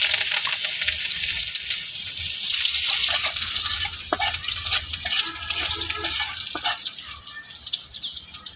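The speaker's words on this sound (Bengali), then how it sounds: "শুকনো মরিচ আর পেঁয়াজ বাজিয়ে নিব" Dried chillies and onion frying in a pan, a loud, dense sizzle that carries on steadily throughout with a few faint scrapes and knocks of a spoon stirring.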